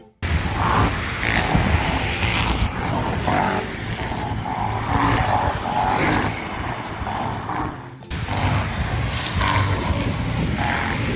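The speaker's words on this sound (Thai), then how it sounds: "ดูเครื่องบิน" A loud, broad jet-like roar of an airplane taking off fills the air near a coastal area, heard continuously with a brief dip near the end; no clear talk over it.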